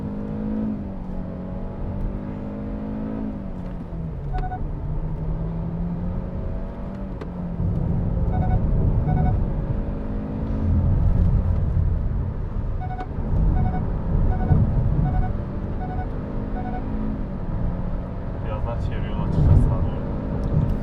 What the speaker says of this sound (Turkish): Tekrar dip gaz yapıyorum burada. 40'ta dip gaz yaptım arkadaşlar.